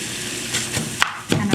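Chopped onions sauteing in a pan for a healthier palak paneer, a steady close sizzle and frying hiss with a few brief stirring scrapes over about a second and a half.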